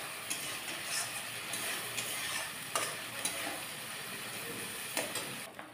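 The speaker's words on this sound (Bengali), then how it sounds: "এবার দিয়ে দিচ্ছি পেঁয়াজ আদা রসুন কাঁচা লঙ্কা বাটা। একটু নেড়ে চেড়ে নেবেন।" Onion, ginger, garlic and green chili paste sizzles steadily in a frying pan for a Bengali prawn malai curry, with a spoon scraping and stirring through it in a few scattered strokes and no talk.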